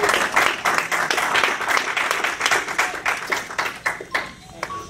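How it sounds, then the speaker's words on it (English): Audience at a men's church conference claps hands, starting dense and loud, then thinning into scattered, distinct claps as it fades, with voices mixed in. "Clap your hands all over this room."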